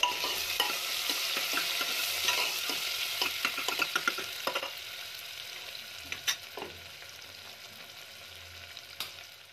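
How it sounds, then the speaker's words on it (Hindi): Sliced onions fry and sizzle steadily in a pan while a utensil stirs them, with repeated scraping clicks and soft knocks over a continuous hiss; no talking. "प्याज को लगातार चलाते हुए हम तब तक फ्राई करेंगे जब तक कि ये डार्क ब्राउन कलर का ना हो जाए"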